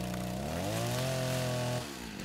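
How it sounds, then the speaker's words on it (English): A chainsaw in the video game Rust runs at a steady buzzing idle, revs up to a higher sustained whine, then cuts back down near the end, loud and close with no talk. "Let me just kill this chainsaw real quick"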